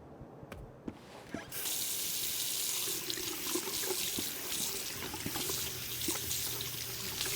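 In a video game, a sink tap opens after a few clicks and knocks, and water then runs steadily and close for several seconds.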